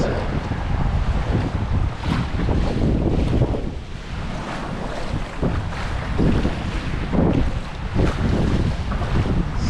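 Strong wind buffets the microphone in heavy, continuous gusts while kayak fishing at the Chesapeake Bay Bridge-Tunnel, with rumbling surges rising and falling over churning water.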